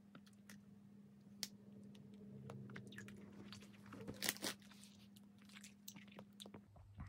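Someone chews a hard lemon candy from Daiso up close, with irregular crunches and sharp cracks over a faint steady hum, louder bites clustering toward the middle.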